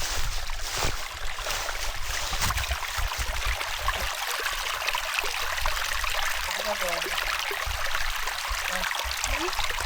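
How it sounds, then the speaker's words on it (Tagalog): Water from a stream flows steadily beside a rural hiking trail in Japan, a continuous broadband rush that stays fairly loud and even throughout, with no talking over it. "binibidyo ko yung ano, tunog ng tubig"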